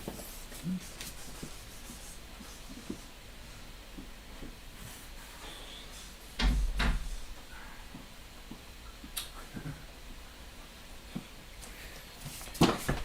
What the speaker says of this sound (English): So I'm gonna go close the door real quick.